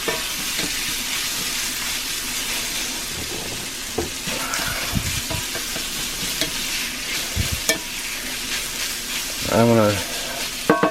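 Sauce cooks and sizzles in a cast iron skillet for a meat-lovers breakfast, a loud close crackle broken by scraping utensil strokes and clanks, with a brief spoken word.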